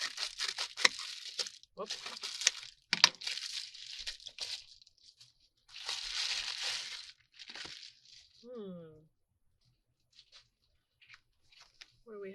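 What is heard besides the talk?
cutting open and unwrapping a haul package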